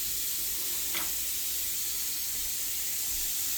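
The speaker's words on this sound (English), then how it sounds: "make sure your pan's hot. And throw all the beef and break it up in there" Ground beef broken up in a hot pan gives off a steady, even sizzling hiss, with one brief sharp clink near the start and no talk over it.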